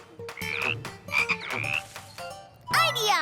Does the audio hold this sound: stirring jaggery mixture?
no